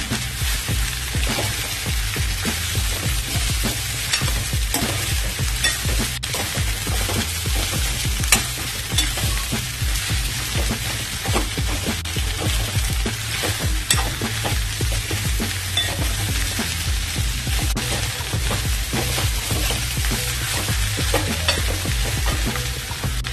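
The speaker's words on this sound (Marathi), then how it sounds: "भाजीला चांगलं परतून घ्यायचं आहे आपल्याला." Mokha vegetable being sautéed in a pan for a traditional village-style dish, a steady loud sizzle with frequent scraping stirs of a spatula throughout, no voices.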